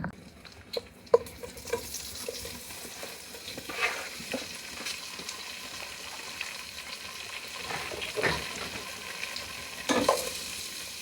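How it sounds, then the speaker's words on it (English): Sausages brown in melted butter in a pan, giving a soft, steady sizzle and spatter with occasional scrapes and pops as pieces are turned, fairly quiet and close, without speech. "Make sure that all the sides of the sausage get browned"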